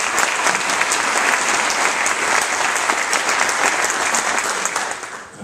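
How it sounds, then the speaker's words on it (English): Audience applause at a nursing pinning ceremony, a dense, loud, sustained wash of many hands clapping that holds steady and then tapers off at the very end. "Let's give a little round of applause."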